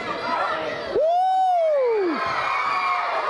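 A basketball crowd roars with cheering and whoops, one loud rising-and-falling yell standing out above the steady arena din.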